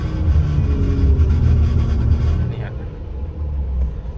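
A 1996 Mitsubishi Strada pickup idles with a steady low engine rumble, loud and close, holding an even drone throughout with no revving.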